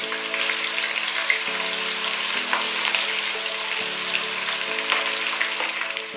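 Onion frying in a pan for a home-cooked stew, a steady bright sizzle holding throughout with occasional crackles over a low background hum.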